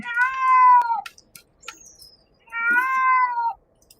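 A cat meows twice while being groomed under a dryer, each call long, loud and close, with a pause of faint handling noise between them.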